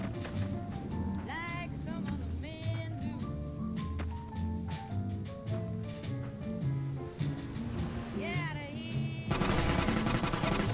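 Gunfire in the Fallout: New Vegas video game, with sharp shots cracking repeatedly over a busy bed of game music and footstep-like clatter, turning into dense rapid fire near the end.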